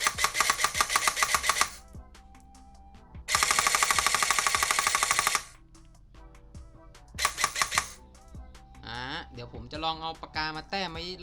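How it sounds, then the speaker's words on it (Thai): Airsoft gun fitted with a Perun ETU board test-fires in loud rapid full-auto bursts, three distinct strings of fast mechanical shots separated by pauses, with a person talking near the end. "เดี๋ยวเรามาลองเทสยิงกัน"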